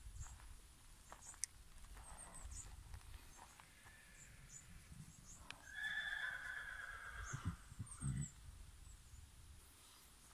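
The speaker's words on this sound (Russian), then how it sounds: "Вон там белый конь." A white horse in the Kok-Zhailau mountain pasture above Almaty lets out a single clear whinny in the middle, amid quiet outdoor ambience and a few soft hoof and rustling sounds.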